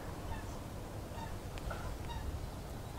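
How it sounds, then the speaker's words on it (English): Waterbirds call faintly in the background of a marsh on the Somerset Levels, brief honking and pinging notes scattered over a steady low rumble of ambient noise. "That in the background there is coot."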